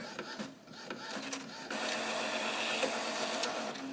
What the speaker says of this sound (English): So you definitely want to make sure that you do your nozzle head check.